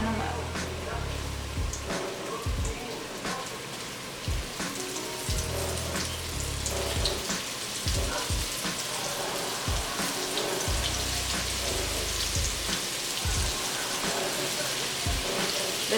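Food frying in a coated cast iron skillet, a steady crackling sizzle with scattered pops and low thumps as pieces are tossed in, close and continuous, with some kitchen handling noise.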